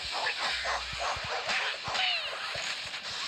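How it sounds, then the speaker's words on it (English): Dogs bark, yip and whimper in the Dan The Man video game, with repeated short yelps and snapping bites over busy game music and effects, loud and close throughout. "Look at all these daggum dogs."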